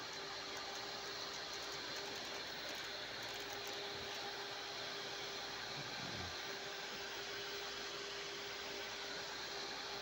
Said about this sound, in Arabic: يمكن عم تسمعوا صوت المروحة